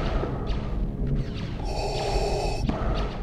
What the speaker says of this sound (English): our first impression of Darth Vader doesn't come from his voice, but from his breathing